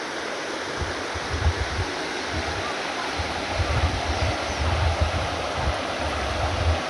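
A mountain stream in the Bieszczady flows over slippery stones, giving a steady, full rushing of water that stays close and continuous throughout, with no voices.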